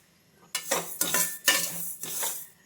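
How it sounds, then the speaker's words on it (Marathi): Bhajani, a mixed grain flour, being dry-roasted in a pan over a low flame, with a few close scraping stirs of a spoon against the pan separated by short pauses. "तर अशी भाजणी चालू आहे बघा"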